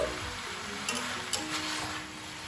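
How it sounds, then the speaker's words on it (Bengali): Leafy greens frying in a pan for a mixed vegetable curry with jackfruit seeds, a steady soft sizzle with faint stirring scrapes and a couple of brief clinks, close and even throughout. "সেই শাকটা ভালো করে মিশিয়ে দেবো"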